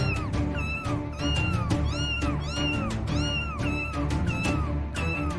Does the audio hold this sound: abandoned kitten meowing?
yes